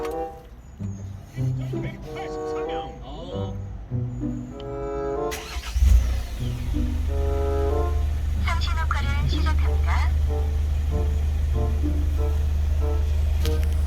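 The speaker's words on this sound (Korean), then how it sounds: "시동을 켜봅니다" A Hyundai Porter II truck engine cranks and catches partway through, then settles into a steady, loud low idle. Someone speaks before the start.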